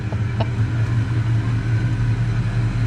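A 1990 Ford Mustang engine running as the car drives, a steady low rumble with a slight pulsing idle-like drone, close and loud throughout.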